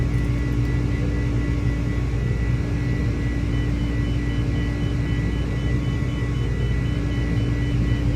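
An Airbus A300 climbs out on a go-around in Microsoft Flight Simulator, with a steady, loud jet engine roar and low cockpit rumble that holds without letup.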